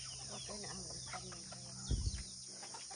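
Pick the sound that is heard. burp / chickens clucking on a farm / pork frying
chickens clucking on a farm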